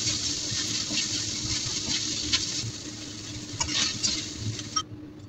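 Pork pan-frying in a wok for a Hong Kong-style beansprout, chive and pork dish gives a steady close sizzle and hiss, with occasional stirring scrapes and clinks of the utensil against the pan.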